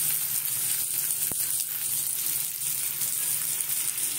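Fritters (bora) fry in a pan of hot oil, a loud, continuous close sizzle with a constant hiss and bubbling throughout, and one brief sharp tap partway through.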